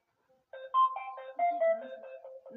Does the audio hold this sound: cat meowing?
no